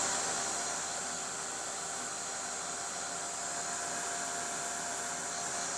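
A heat tool drying ink on the back of a stamped craft page blows a steady, close, loud whooshing hiss that runs unbroken throughout with no voices.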